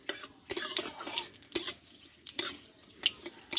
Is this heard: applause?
no